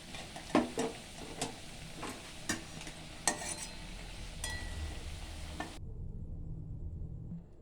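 Quiet oil sizzles while a utensil clinks and scrapes against the pan several times, lifting fried green-banana koftas out; the sound cuts to near silence at the end.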